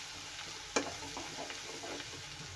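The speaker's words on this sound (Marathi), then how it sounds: "आलं लसणाची पेस्ट पण आपल्याला त्याचा उग्रपणा जो वास असतो ना तो जाईपर्यंत भाजून घ्यायचा आहे" Ginger garlic paste frying in oil in a pan, a soft continuous sizzle with a sharp scrape of stirring near the start and light crackles after.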